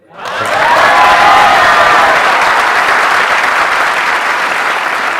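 Stage audience applause, a dense sustained wash of many hands clapping that swells quickly and holds loud for several seconds, with faint cheering mixed in.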